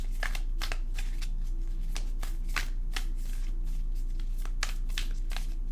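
A deck of tarot cards shuffled to draw a card, a quick series of soft riffling flutters and snaps close by, alone over a steady low hum.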